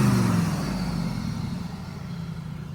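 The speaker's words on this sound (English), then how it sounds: "So I can give this thing a little rev for you guys." Ford Lightning SVT pickup with a ported supercharger blower revs its engine, a steady low rumble that starts loud and eases off slightly across the clip, heard alone without talk.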